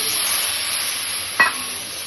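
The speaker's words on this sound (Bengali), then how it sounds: "এখন মশলার ভিতর জল ঢেলে দেব।" Water poured into a frying cumin and turmeric spice paste makes one brief, loud hiss and sizzle burst near the end, over a steady low kitchen background.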